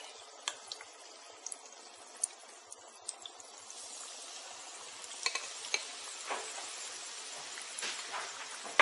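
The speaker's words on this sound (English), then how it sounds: "now it's frying one more" Mirchi vada, a Rajasthani chili fritter, frying in hot oil gives a soft, steady sizzle with scattered light pops and crackles, fairly quiet and close, growing a little denser partway through.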